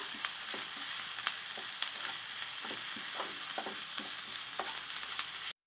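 Grated carrot and onion sauté in a pan, giving a constant close sizzle broken by regular scraping stirs, with no talking.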